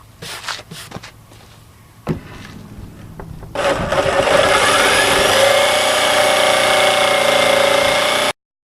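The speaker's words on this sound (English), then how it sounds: "So I will cut this out with my jigsaw." A handheld jigsaw cuts a circle out of a wooden board for a children's cornhole game, starting after a few clicks and knocks and then running as a loud, steady, close buzzing whine for several seconds before stopping abruptly.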